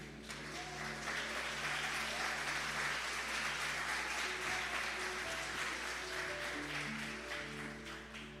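Steady applause from a large church congregation fills the space, sustained and even throughout, with a faint tonal hum underneath.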